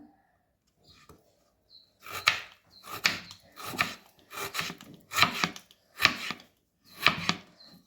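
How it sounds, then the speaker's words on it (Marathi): A knife chops tomatoes steadily on a board, about a dozen crisp, evenly paced cuts after a quiet start. "टोमॅटो पण कापून घेऊया बघा आता"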